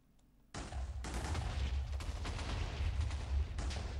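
A chain of explosions goes off in rapid succession in a Minecraft game, each sharp burst rolling into the next in a dense, crackling barrage.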